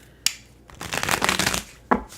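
Tarot cards being shuffled: a sharp snap at the start, a burst of quick riffling flutter in the middle, and another crisp snap near the end, close and clear with no talking.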